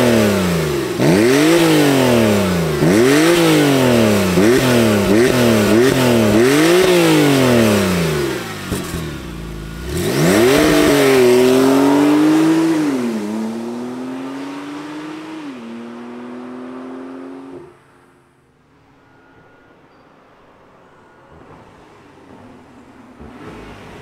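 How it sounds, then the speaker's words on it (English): A Porsche 911 Carrera S flat-six revs hard in a quick series of rising and falling blips, then swells through a few longer, slower climbs before dropping to a low, quiet idle. "let's fire up this flat six and hear what it sounds like"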